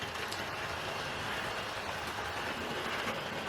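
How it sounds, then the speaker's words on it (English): A model railway locomotive runs round the track with a continuous, even rolling rush and faint wheel clatter at steady volume throughout. "Locomotive going round."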